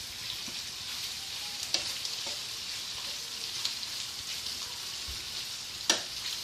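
Bacon cooking in a pan: a quiet, steady crackling sizzle with a few brief sharp clinks and scrapes of a utensil, close and continuous, no talking.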